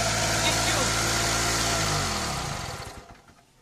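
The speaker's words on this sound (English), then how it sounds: "I try to turn off this biogas engine by cut this tube." A small two-stroke engine running on biogas drones loudly and steadily up close, then winds down and dies away as its fuel tube is cut.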